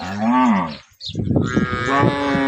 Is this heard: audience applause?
no